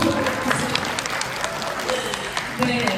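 An audience at a Korean lecture breaks into applause, a dense, steady wash of many clapping hands lasting a few seconds, with voices mixed in underneath.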